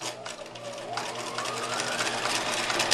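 A sewing machine runs steadily, stitching a zigzag finish along pajama pant seams, its rapid, even mechanical whir and needle chatter close and continuous for the whole stretch with no talking.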